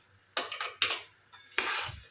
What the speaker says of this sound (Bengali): আলু দিয়ে নিয়েছি, আবারও ভালো করে কষিয়ে নেব